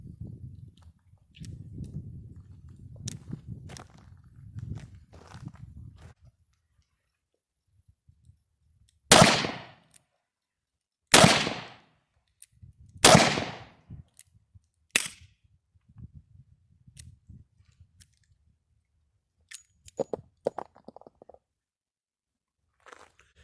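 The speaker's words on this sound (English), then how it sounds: "I'm going to have 3 live rounds, and again followed up with a squib load." A handgun fires three loud, sharp live rounds a couple of seconds apart, followed by a much weaker pop from a squib load, with quiet handling noises before and after.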